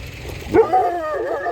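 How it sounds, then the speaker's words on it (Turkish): A dog barking on the street, one close, sharp yelp-like bark followed by a trailing whine over low outdoor background noise. "Bizim siyah evlat mı ilerideki havlayan başka evlat mı bilmiyorum."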